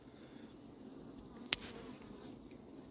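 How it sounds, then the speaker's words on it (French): Honeybees at an apiary hum in a soft, continuous drone close by, with one brief sharp tap partway through and no talk. "Des abeilles vraiment tranquilles."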